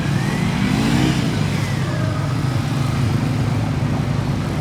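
A Kawasaki Ninja 250R motorcycle engine at a motorcycle gymkhana event, held at a steady mid rev with slight rises and falls while the bike performs tight 360-degree turns, continuous and fairly loud throughout.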